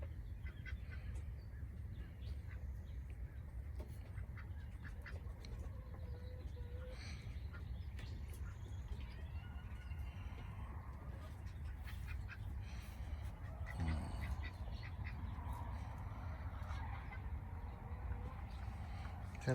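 Ducks quacking and honking on a farm with chickens nearby, scattered calls at moderate distance over a low steady outdoor background, with a few faint voices.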